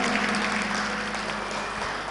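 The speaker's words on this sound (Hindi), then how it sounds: "एक बार जोरदार इनके लिए तालियां बजाएं" An audience at a Jain religious sermon gathering claps in a dense, continuous wash of applause, steady and moderately loud, with no talk.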